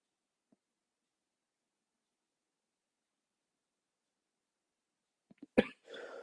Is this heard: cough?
yes